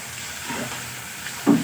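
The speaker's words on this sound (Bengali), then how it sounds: "খুব আস্তে আস্তে আমি মশলাটা কষাবো" Masala with tomato paste fries in oil, a close, steady sizzle and hiss with a soft stirring scrape near the end, brief and without speech.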